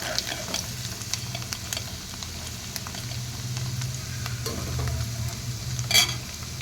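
Spinach for palak paneer curry fries in oil in a pan with a soft, bubbling sizzle, broken by light scraping stirs and a sharper clink near the end, and no one speaking.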